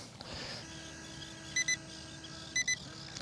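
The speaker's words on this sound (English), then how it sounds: "the remote just doesn't go very far. That's what that beeping is." A UDIRC InkFish RC jet boat remote gives out-of-range warning beeps: two pairs of short, high electronic beeps about a second apart over a quiet background hum.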